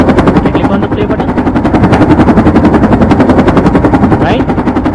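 A helicopter sound effect plays inside a Unity AR app, a loud, continuous rapid rotor chop with fast even pulses throughout, with no talking over it.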